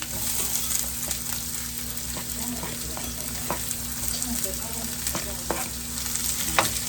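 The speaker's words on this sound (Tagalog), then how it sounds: "Add our ginger and our onion." Ginger and onion stir-frying for an oyster dish, a steady loud sizzle with scattered crackles and scraping stirs in the pan throughout, no voices.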